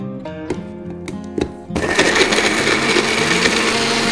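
A few clicks and taps, then a blender roars to life, grinding spices loudly and steadily at close range.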